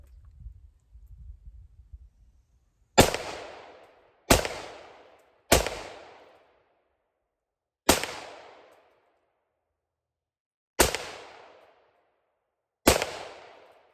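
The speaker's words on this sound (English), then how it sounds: "So let's plink off a few rounds." An American Tactical carbine with a 16-inch barrel firing 5.56/.223 rounds, six loud, sharp, separate shots at irregular intervals, each ringing out and decaying, after a faint rustle at the start.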